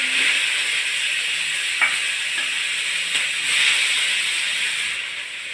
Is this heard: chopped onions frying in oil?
yes